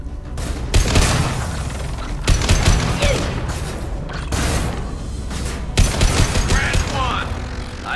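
Rifle fire in the video game Mass Effect 2 comes as loud, close bursts of rapid shots separated by brief pauses, with mechanical clatter and booming impacts mixed in.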